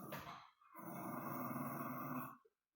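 Indoor dogs growl at each other in a low, rumbling snarl that starts briefly, pauses, then swells into a sustained throaty growl before stopping abruptly, fairly close and with no talk.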